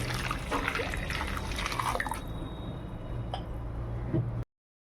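A glass of water is poured in a home kitchen to boil soybeans for a spicy soybean sabji, a steady close splashing and trickling that runs for about four seconds before cutting off.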